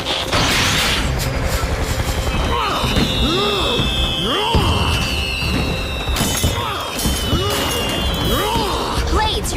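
Cartoon fireworks burst in a rapid series of booming, crackling explosions, loud and close. Rising whistles and a long sweeping tone run through the barrage, which keeps going for several seconds.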